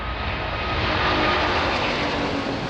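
Aircraft engines roar steadily at Frankfurt airport, a loud, constant broadband drone with no break and no voices over it.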